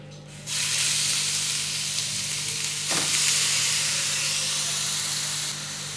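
Two cups of finely grated carrot go into hot ghee for carrot laddu and burst into a loud, steady sizzle that holds evenly, with a brief stir partway through.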